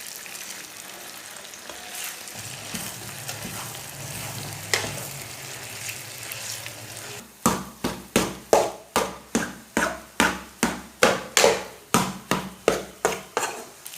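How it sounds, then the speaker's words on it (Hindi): A spoon stirs makhandi halwa in a pan, first as a soft sizzle with scraping, then as a quick series of rhythmic taps and scrapes against the pan, close and clear. "अब इसे चम्मच चलाते हुए पका लेंगे।"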